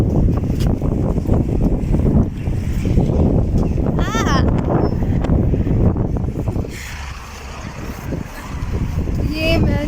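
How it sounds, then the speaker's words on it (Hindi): Cold wind blows steadily outdoors in Kazan as a loud, rumbling gust noise buffeting the microphone, easing briefly near the end before picking up again. "बहुत ठंडी हवा चल रही है।"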